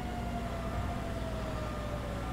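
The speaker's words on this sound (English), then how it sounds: "My siren is broke!" A broken emergency vehicle siren in GTA V drones as one steady, slightly sagging tone, continuous and fairly loud over a low rumbling engine bed for the whole stretch.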